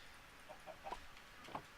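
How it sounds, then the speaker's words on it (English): Chickens cluck in a Minecraft survival game, a few soft, short clucks spread over a faint steady background. "throwing some eggs. Get some more chickens in here."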